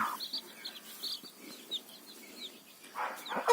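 Several short, scratchy clucks from a hen with her chicks come close by in irregular bursts, with louder squawks near the end.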